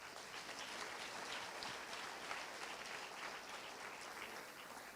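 An audience at a Christian gathering applauds alongside a former priest, sustained broadband clapping from many hands that stays even and full for several seconds, filling the room without pause.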